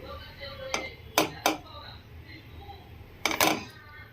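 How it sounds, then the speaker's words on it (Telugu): A lid goes onto a pot on the stove where wheat-flour biscuits bake over medium flame, producing several sharp metallic clanks and clatters, close and distinct, over a steady low background hum. "మూత పెట్టి చేసుకోవాలి"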